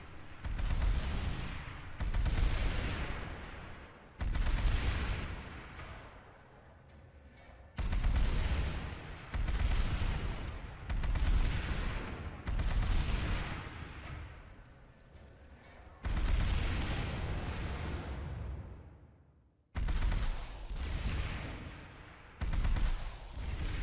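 A new Sunderer vehicle weapon in PlanetSide 2 fires in loud, sustained bursts of several seconds each, separated by short gaps, with booming low rumble and a voice faintly present under the noise.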